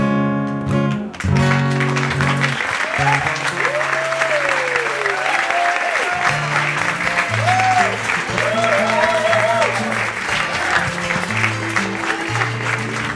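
An audience claps steadily after a French song performance, sustained applause running throughout while low instrumental tones and some voices continue underneath.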